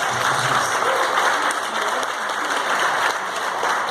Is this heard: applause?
yes